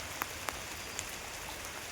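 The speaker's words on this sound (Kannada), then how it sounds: "ಒಳ್ಳೆ ಮಳೆ ಹೊಡಿತೈತೆ" Steady rain falls on a jamun tree beside a lake in Coorg, giving a soft, even hiss with a few sharper drops tapping on leaves and nothing louder in between.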